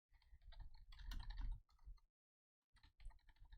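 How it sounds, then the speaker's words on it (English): Fingers type on a computer keyboard nearby, a quick flurry of clicky keystrokes, a brief pause, then another burst of taps. "I'm typing refresh in my"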